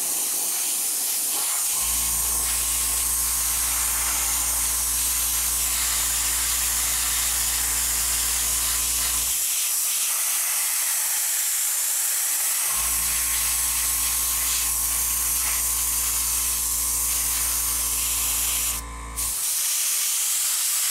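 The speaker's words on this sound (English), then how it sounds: "So let's get some spray on this back superstructure." An airbrush sprays paint onto the rear superstructure of a model ship, a loud continuous hiss over a steady compressor drone that runs in two long bursts with a short pause between.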